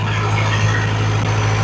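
A classic Chevy Apache truck with a diesel engine cruises at 60 in fifth gear, giving a steady, loud low drone that stays constant throughout.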